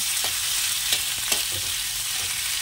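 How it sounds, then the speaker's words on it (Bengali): Onion, tomato and capsicum stir-fried briefly in a little oil, a continuous hiss of sizzling broken by a few soft scrapes and knocks of stirring, with no voices. "এই অল্প তেলের মধ্যে দিয়ে দেবো পেঁয়াজ, টমেটো আর ক্যাপসিকাম, একটু হালকা নাড়িয়ে নিয়ে তুলে নেব"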